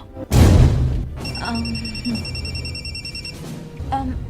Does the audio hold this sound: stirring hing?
no